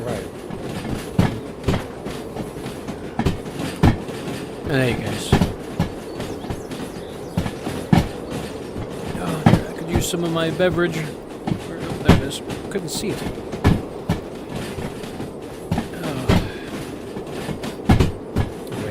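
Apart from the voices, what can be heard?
train rolling on rails in the video game Derail Valley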